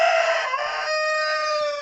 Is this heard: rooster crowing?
yes